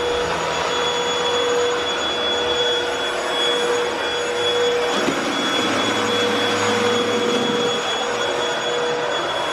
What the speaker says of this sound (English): I've just learned that I cannot hoover with my left hand